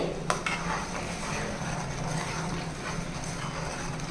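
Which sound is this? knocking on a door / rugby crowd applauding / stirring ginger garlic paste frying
stirring ginger garlic paste frying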